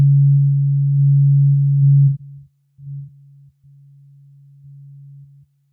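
A steady low sine tone sent through a steep 48 dB-per-octave high-pass filter set at 83 Hz, loud and sustained for about two seconds, then dropping to a quieter, broken hum with short gaps.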